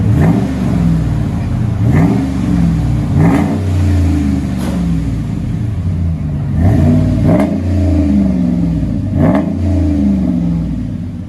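A 2011 RAM 1500 pickup's 5.7L HEMI V8 revs hard in repeated bursts through Flowmaster 40 Series dual exhaust, throttle rising and falling several times over a deep, rumbling idle, loud and close.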